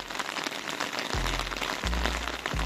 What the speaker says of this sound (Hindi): पूरी रात से बारिश हो रही है